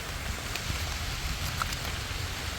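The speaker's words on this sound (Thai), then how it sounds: "ฝนก็มาพอฝนแลนอาซา เขาก็มาพร้อมใส่ฝนเลย" Steady rain falls outdoors during a mushroom-foraging trip, a dense, even hiss of drops with a few faint patters, continuing without pause and with no talking.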